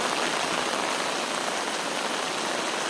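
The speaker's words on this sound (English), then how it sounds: "And this is a moderate rain, not a real big heavy rain." Moderate rain falling outdoors around a retention pond, with thunderstorms about, a steady dense hiss of drops on surfaces, even and close throughout with no voices.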